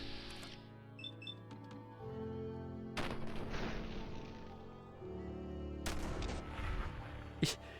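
Gunshots in the video game Fallout 4, a few sharp reports with mechanical clicks and clanks of the weapon, quiet and mixed with game sounds and no talk.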